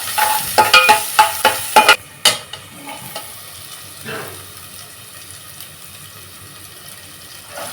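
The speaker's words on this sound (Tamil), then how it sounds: "வெங்காயம் வதங்குற வரைக்கும் வதக்கிடுவோம்" Onion and ginger garlic paste being sautéed in oil in a pan, with stirring clatters and sharp scrapes in the first two seconds, then a steady low sizzle that carries on quietly to the end.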